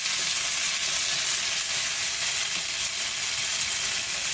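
Madras curry paste from a Patak's spicy and tangy kit sizzling in hot oil as it is stirred, a steady loud hiss running unbroken throughout with no talking.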